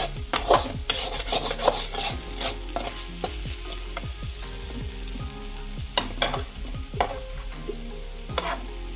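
Okra fries in a pan with curry leaves, sizzling steadily while a spatula stirs and scrapes in repeated strokes, loud and close.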